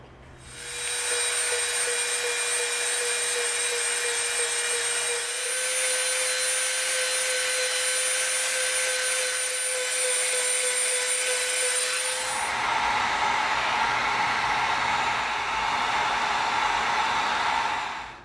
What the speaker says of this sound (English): Now we're going to come in with our smooth bit and we're going to try to smooth it out.